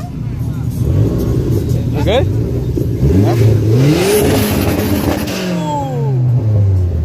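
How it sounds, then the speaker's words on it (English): Loud car engine revving near a street battle of import cars in Kent, Washington, rising and falling in pitch as it accelerates, with people talking over it throughout. "That car is loud."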